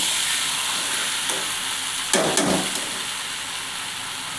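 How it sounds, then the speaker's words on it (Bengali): Chicken and potatoes frying in a pan for curry, a steady bright sizzle with a louder burst of spitting and hiss midway as the pieces are stirred. "মাংস আর আলু দিয়ে দিলাম, এখন একে একটু সাঁতলাবো।"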